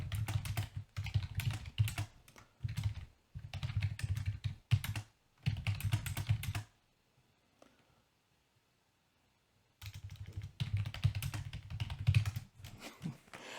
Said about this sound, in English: Sorry for the typing sound.